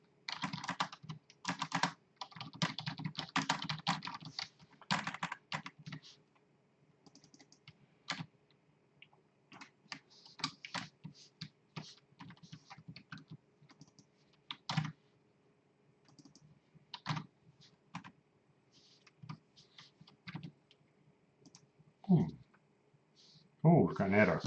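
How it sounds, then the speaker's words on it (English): Rapid typing on a computer keyboard in a quiet room, dense bursts of clicks early on that thin out into scattered keystrokes and pauses, fairly close, with a louder clatter near the end. "Try typing properly, Dunlop."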